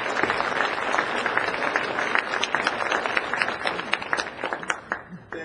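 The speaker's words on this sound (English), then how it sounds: "Please join me in a round of applause for the Chief of the North Reading Police Department, Edward W. Nolan." A room full of people at a police department identity theft prevention forum breaks into sustained applause for the police chief, dense steady clapping that holds loud throughout and thins slightly at the end.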